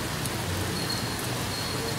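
Rain falls steadily as a dense, even hiss of drops on surfaces, with no distinct events, continuous and moderately loud.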